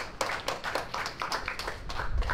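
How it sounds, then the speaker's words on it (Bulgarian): Sparse, uneven clapping from a small group at a songwriting camp event, a few hands tapping close by in an irregular rhythm, fairly quiet. "Ръкопляскания."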